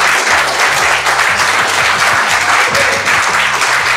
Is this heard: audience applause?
yes